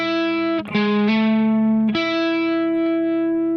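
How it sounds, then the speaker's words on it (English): Lead guitar line played slowly with distortion and effects, a few sustained notes sliding and changing pitch, close and alone with no talking. "About halfway through the verse, the lead guitar will play this part."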